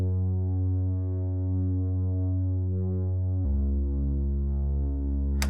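A Serum FM bass synth preset holds a sustained, droning low tone that shifts to a new lower note partway through, playing alone with no other instruments or voices.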